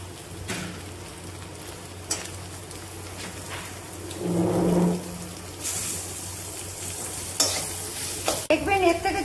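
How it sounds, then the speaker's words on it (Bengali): Mashed boiled potatoes frying with turmeric, salt, spices and grated coconut in a pan, a steady low sizzle under repeated scraping of a spatula, with a louder burst of stirring midway and no talk. "এবার সিদ্ধ আলুগুলো দেখুন ম্যাশ করে দিয়ে দিচ্ছি।"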